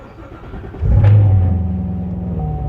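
A Corvette Grand Sport engine cranks on a cold start and fires up with a sudden rumble, then settles into a loud, steady idle in cold weather.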